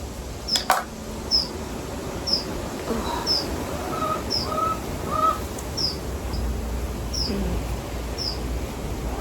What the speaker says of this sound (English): there's really loud birds